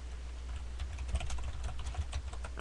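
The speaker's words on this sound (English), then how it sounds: "typing back to somebody" Quick, light keystrokes tapping on a computer keyboard in irregular bursts, close by, over a faint low hum.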